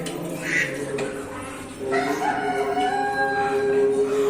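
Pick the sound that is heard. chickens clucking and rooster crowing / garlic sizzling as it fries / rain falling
chickens clucking and rooster crowing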